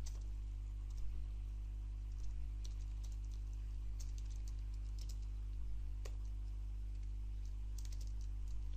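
Soft, quick keystrokes on a computer keyboard come in short irregular bursts while JavaScript code is typed, faint and close over a steady low electrical hum, with no one speaking.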